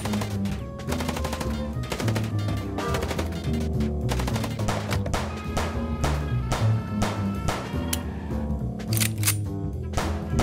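Gunfire in the video game Chicken Police rattles continuously and loudly, a dense stream of sharp automatic shots with no pauses.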